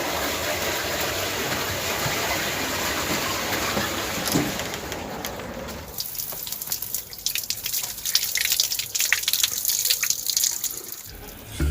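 Water runs steadily from a tap, a continuous close gush that turns more uneven and splashy about halfway through, with no voices.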